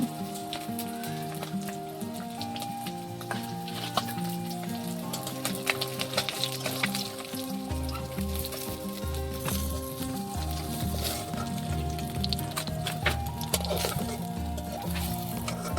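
Fish frying in oil in a karahi in a village kitchen gives a steady crackling sizzle throughout, partly masked by loud tonal music playing over it.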